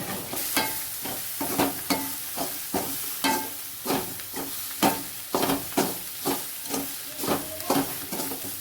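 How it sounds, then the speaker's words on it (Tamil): Masala and coconut sauté with bitter gourd in a pan, a soft steady sizzle punctuated by regular rhythmic scrapes of a spatula turning the mix, close and moderately loud, without voices. "மசாலா ஆட் பண்ணிட்டு தேங்காயெலாம் கொஞ்சம் பச்சை வாசனை போகிற வரைக்கும் கொஞ்சம் நல்லாவே வதக்கிடுங்க"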